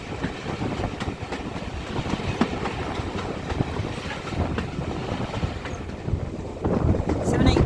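The steam locomotive Odney Manor on the West Somerset Railway runs toward Williton on the Bishops Lydeard to Minehead service, giving a steady, close rumble and clatter of wheels, with wind buffeting and some voices.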